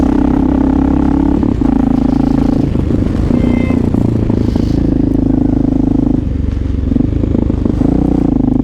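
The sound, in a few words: Honda XR650L motorcycle with loud aftermarket exhaust riding in snow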